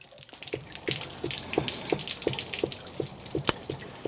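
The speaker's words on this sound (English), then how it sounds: "the water is gonna keep flowing out here until my tank is empty" Water pours steadily from an RV hot water heater tank while the anode rod is out, a continuous wet rush broken by regular splashing pulses about every third of a second, close and moderately loud.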